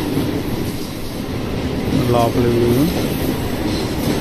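A passenger train between Vijayawada and Rajahmundry runs on the rails near the Godavari with a low steady rumble, while a brief squealing tone rises midway and a voice speaks over it.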